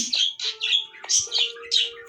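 A bird squawks repeatedly in harsh, rapid bursts, loud and close, about six calls in quick succession.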